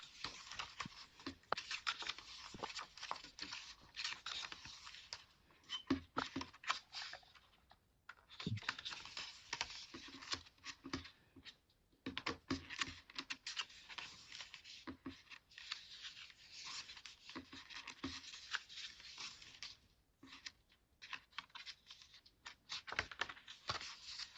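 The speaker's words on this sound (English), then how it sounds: "I hadn't realised quite how much noise I was making turning these pages." Silk paper pages of a photobook are turned and flicked one after another, making close, crisp rustling and crinkling bursts with brief pauses between page turns.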